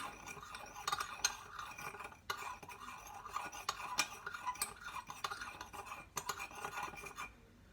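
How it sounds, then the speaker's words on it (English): Salt being stirred with a spoon into a vinegar solution, giving steady scraping and light clinking against the container for several seconds, close and moderately quiet, with no voices. "I'm going to mix the solution up. Make sure that the salt dissolves"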